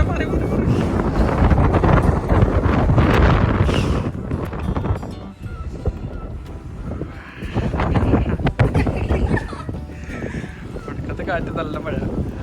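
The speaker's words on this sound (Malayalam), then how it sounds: "നല്ല കാറ്റും മഴയുണ്ട്." Strong wind and rain buffet the top of Cabot Tower in Bristol, roaring loudly over the microphone in continuous gusts that briefly ease before surging again.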